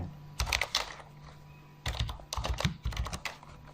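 Coding on a computer keyboard while building an HTML and CSS website, with two close bursts of rapid, crisp key clicks separated by a short pause.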